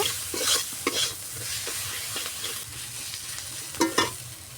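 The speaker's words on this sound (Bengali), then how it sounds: "দিয়ে দেব নুন, দিয়ে দেব 1 চামচ লঙ্কার গুঁড়ো। ভালোভাবে নেড়ে চেড়ে কষিয়ে নেব।" Tengra fish with salt and chilli powder stir-frying in a pan, with a spatula scraping and clattering repeatedly over a constant close sizzle, and a couple of louder knocks near the end.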